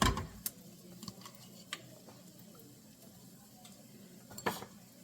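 Frozen peas, carrots and corn sauté with onions in a pan, a faint steady sizzle with occasional stirring clicks and scrapes, quiet and close.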